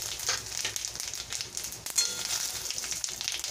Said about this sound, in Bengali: এবারে আমি ওই তেলে তেজপাতা, শুকনো লঙ্কা আর হাফ টিস্পুন গোটা জিরে ফোড়ন দিয়ে দেব।